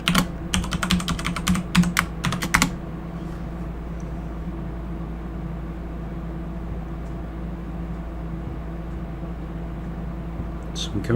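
A computer keyboard during a Windows Server 2016 login: a quick burst of close keystrokes over a few seconds, then steady background hum with a couple of faint clicks at the end.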